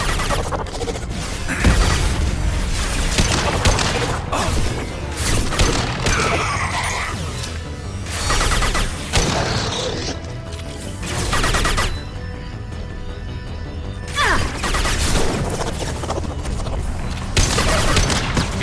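A heavy weapon firing and exploding in a Mass Effect battle: a dense run of loud booms, blasts and crashing impacts lasting throughout, with a few brief lulls between bursts.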